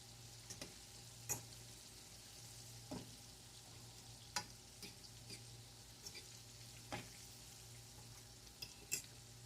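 Chicken pieces for copycat orange chicken fry quietly in oil, a soft steady sizzle broken by scattered faint pops and clicks.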